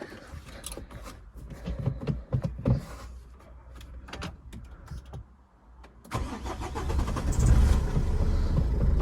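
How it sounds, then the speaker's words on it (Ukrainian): A 2012 Renault Koleos with a 2.0 diesel engine is cold-started: clicks and car noises first, a brief pause, then the starter cranks and the engine catches into a loud, rough idle close by. "Ну і зараз заведемо двигун, послухаємо як він працює."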